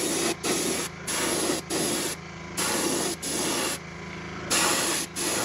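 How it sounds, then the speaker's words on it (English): An airbrush sprays glitter glaze onto a fishing bait, a close, steady hiss broken into several bursts of about a second each with brief gaps between them. "we're gonna spray this glitter glaze"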